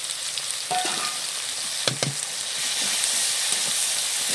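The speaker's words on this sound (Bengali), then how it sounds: "আদা রসুন বাটাটা দিয়ে মশলাটাকে আমি আরও একটু কষিয়ে নেব" Onion, bay leaves and ginger-garlic paste fry in a pan with a steady, close sizzle, broken by a couple of sharp spatula scrapes midway. No voices are heard.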